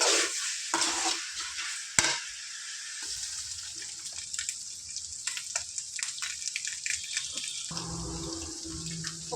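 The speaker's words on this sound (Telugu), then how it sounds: "వీటిని చక్కగా పటపట అనేటట్టు ఫ్రై చేసుకుందాం ఈ విధంగా ఒక టెన్ మినిట్స్ ఫ్రై చేసే చేస్తే టేస్ట్ బాగుంటుంది" Goat tripe fries and is stirred in a pan, steady sizzling hiss broken by scraping stirs and clatter of the spoon, close and moderately loud with no talking.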